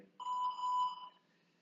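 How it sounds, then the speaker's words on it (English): A workout circuit timer buzzer sounds once, a single steady electronic tone lasting about a second, clear and alone in a quiet room. "that's the buzzer, let's get going"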